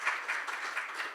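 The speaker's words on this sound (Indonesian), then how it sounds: "Ayo tepuk tangan yang panjang bagi Tuhan kita." Congregation applause at an Indonesian-language Sunday church service in Perth, a steady wash of clapping from many hands in a short burst with no talk over it.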